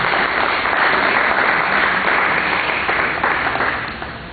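A church congregation applauds steadily, a dense wash of clapping from many hands that holds for several seconds and then starts to fade.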